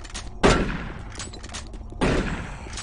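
Two sharp, loud gunshot blasts come from the first-person shooter Doom 3, about a second and a half apart. Each one decays into a booming echo, and quiet game ambience runs between them.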